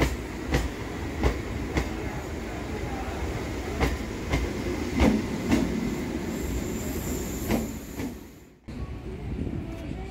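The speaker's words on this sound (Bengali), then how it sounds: "এই ট্রেনটা সকাল 7:30 বনগাঁ স্টেশন থেকে ছেড়ে এসেছে।" A Sealdah–B.B.D. Bag local passenger train runs along the track with a steady rumble and regular clickety-clack wheel beats, briefly dropping out near the end before the rolling noise resumes.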